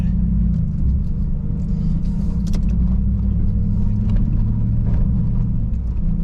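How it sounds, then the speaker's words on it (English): A 2021 Chevy Trail Boss pickup rolls along an off-road trail in Rabbit Valley, Colorado, giving a continuous low engine rumble with light rattles and bumps from the rough ground. "Here we go, trail driving."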